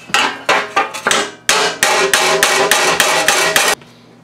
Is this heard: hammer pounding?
yes